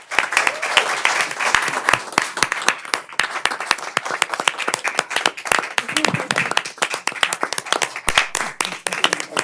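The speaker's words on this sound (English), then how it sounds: "I think we all should give him a round of applause." Audience at a city planning commission meeting claps for an incoming municipal leader: sharp, distinct individual hand claps from a modest group, fairly close and uneven in rhythm, continuing steadily throughout.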